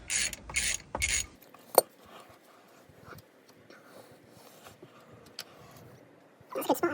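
A ratchet clicks in short bursts while tightening the diff cover bolts on a Land Rover Defender Salisbury axle during a gasket change. Quiet workshop handling noises and a sharp knock follow, and a final rattle of ratcheting comes near the end.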